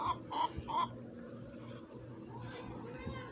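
Chickens cluck a few times near the start, then quieter clucks and low rumbling fill the rest, with faint voices in the background.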